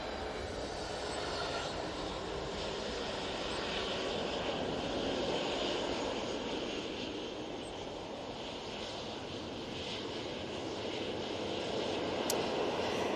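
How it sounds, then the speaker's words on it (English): A Jet2 Boeing 737-800 departing Manchester Airport, its engines a steady, broad roar that holds loud and continuous throughout with no talk over it. "We have that Jet2 737-800 going off to Skiathos."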